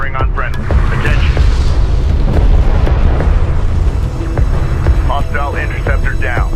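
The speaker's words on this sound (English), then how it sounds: "Enemy railgun firing on friendly." An enemy railgun fires in the strategy game Homeworld: Deserts of Kharak, heavy booming discharges and rumbling blasts over continuous battle noise, with a synthetic radio-style voice speaking intermittently on top.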